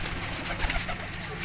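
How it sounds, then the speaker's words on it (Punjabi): Sialkoti pigeons give a brief, soft low cooing close by, with faint background noise around them. "ਆਹ ਸਿਆਲਕੋਟੀ ਜੇ ਦੋ ਕਬੂਤਰ।"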